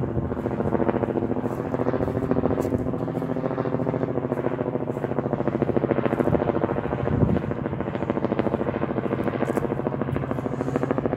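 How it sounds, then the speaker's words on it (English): A helicopter passes over a Dorset churchyard in the Tarrant valley, its steady rotor thump and engine drone loud and constant throughout, with no talking. "Mr. Helicopter."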